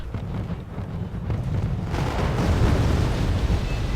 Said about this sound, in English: Artillery being fired yet again, which is a surprise.